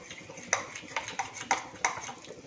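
Spoon clinking against a bowl while oil is stirred into gram flour batter for sponge gourd bhaji, a handful of sharp metallic taps at an uneven rhythm over soft scraping, close by.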